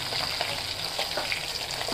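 Pieces of boal fish fry in hot oil in a pan, a steady close sizzle with light crackling pops and the occasional stir.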